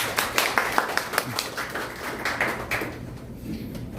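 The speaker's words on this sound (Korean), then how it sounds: "박수로 환영해 주십시오" Applause welcoming a speaker at a Korean civic group's annual lecture event, a moderate round of clapping with distinct hand strikes early on that fades out after about three seconds.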